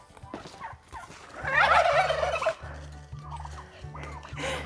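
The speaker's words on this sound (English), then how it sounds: "Did you hear that? Did you hear them go gobble, gobble, gobble?" Several turkeys gobble in a loud burst of rapid warbling calls, with lower clucks and background bird noise around it.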